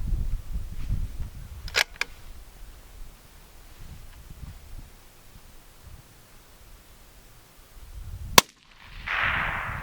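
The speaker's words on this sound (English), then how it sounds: "we're going to go ahead and run the bolt and engage a target we've got out here at 423 yards" A bolt-action rifle fires at a target 423 yards away in an open field, with two sharp shots spaced several seconds apart, the second followed by a brief quiet gap and a rushing noise.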